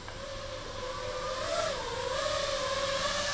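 Motors of a 5-inch FPV quad drone on a 6S battery whine with a steady high buzz that rises and bends in pitch as the throttle shifts, loud and continuous with no talking.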